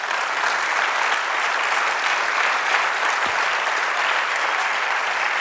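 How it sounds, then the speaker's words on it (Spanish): Sustained applause from a church congregation during a Spanish-language sermon, loud and steady throughout with no talk over it. "Dale un aplauso al Señor."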